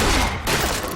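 Dense burst of gunfire from a Bioshock Infinite: Burial at Sea firefight, loud and continuous with a brief dip midway before the shots resume.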